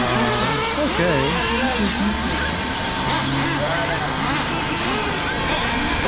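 A Tekno RC truggy running practice laps at Crestwood RC Raceway, a buzzing electric whine that rises and falls in pitch as it accelerates, under loud wind and outdoor noise.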